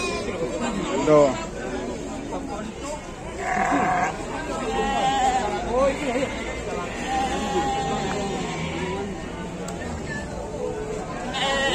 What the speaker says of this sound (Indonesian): Untuk domba yang ada di depan saya ini.